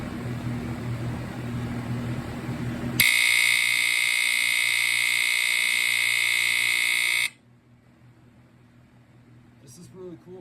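A rare vintage FireX FXC-1 smoke alarm with an AC buzzer blares one loud, steady, harsh tone for about four seconds, rising abruptly out of background room noise and cutting off just as suddenly.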